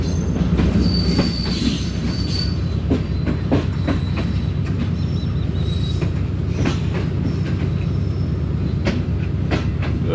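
A train pulls into a station platform in Pakistan, its steady rumble overlaid with repeated wheel clicks and high metallic squeals, loud and close throughout with no talk.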